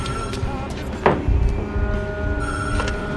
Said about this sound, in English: Better answer the phone